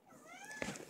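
A single short meow from a house cat indoors, fairly faint and close, arriving near the end of a quiet moment.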